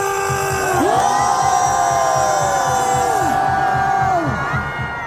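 A large crowd at an anti-impeachment political rally roars and shouts together in a sustained, loud cheer, with a voice over a loudspeaker carrying above the noise.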